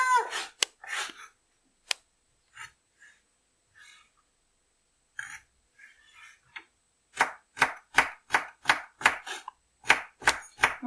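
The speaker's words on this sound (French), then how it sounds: "Donc on le coupe en petits bouts" A knife chopping vegetables into small pieces on a cutting board for vegan carrot bolognese, a few scattered cuts at first, then a steady run of about a dozen crisp, evenly spaced chops near the end.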